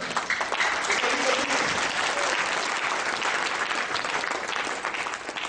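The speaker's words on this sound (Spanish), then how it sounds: "Aplauda al Señor." Congregation applause at a church convention in Camaná, a dense, sustained round of clapping at moderate level with faint voices mixed in, easing slightly at the end.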